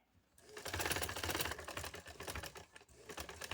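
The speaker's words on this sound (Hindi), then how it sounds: "इसके ऊपर भी मैंने सिलाई दे दी है" A sewing machine stitching fabric for a trouser and sleeve design, a fast close mechanical rattle that starts abruptly and runs steadily with brief slowdowns.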